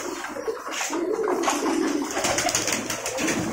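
Pigeons coo steadily in a large pigeon loft at a farm in Munshiganj, Dhaka, many soft overlapping coos at close range over a busy background murmur.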